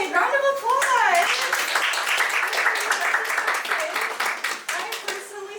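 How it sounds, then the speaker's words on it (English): A comedy show audience bursts into applause, dense steady clapping with a few shouts and whoops near the start, filling the room loudly and continuously. "Round of applause."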